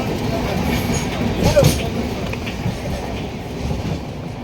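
Steady rumble and rattle of a passenger train running through a tunnel, a continuous loud roar with rail clatter throughout and a brief swell midway.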